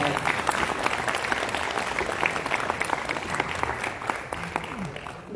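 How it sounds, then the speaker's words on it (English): Warm applause from an audience at a youth justice summit in Jackson, Mississippi, a close, dense clatter of clapping hands with a few scattered vocal whoops, tapering slightly toward the end. "let's give him one more round of applause."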